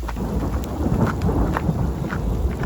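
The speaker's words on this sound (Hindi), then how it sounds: "और देखते ही देखते पूरा ट्रेल हेल स्टॉर्म में बदल गया" A steady roar of hail pelting down on a hill trail, with low thunder rumbling underneath throughout. No voices.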